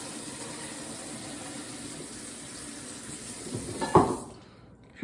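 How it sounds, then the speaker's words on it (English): Water running steadily from a kitchen tap into a sink, a constant close rush that swells briefly with a splash and then cuts off as the tap is shut. "I'm gonna wait till the water goes off."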